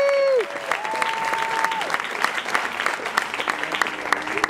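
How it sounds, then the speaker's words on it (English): An audience at a Christian hip hop event breaks into sustained applause. Steady clapping and some cheering last several seconds while musical tones sound underneath. "give him a round of applause, please."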